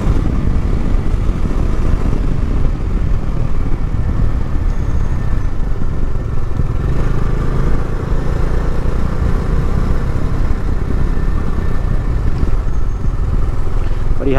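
A heavy motorcycle engine drones steadily while riding, with constant rumbling and wind roar that never lets up.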